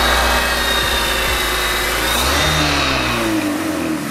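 A Honda Stream's D17 engine revs during a tune-up, a loud, close mechanical drone whose pitch climbs and falls in several sweeps before easing back toward idle, with no talking over it.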